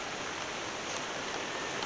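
Steady rain falling outdoors in a Jamaican yard setting, a dense even hiss of drops with no breaks or voices.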